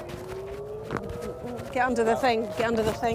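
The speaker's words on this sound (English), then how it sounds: "That's the sirens." A wartime air raid siren wails with a steady, slowly rising tone as rocket fire heads toward Tel Aviv, soon overlaid by close, urgent shouting voices.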